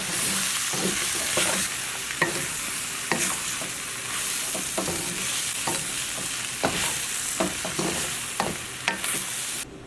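Bamboo shoots being stir-fried in a pan over medium heat, with a steady bright sizzle and repeated scraping tosses of the utensil throughout, no voices.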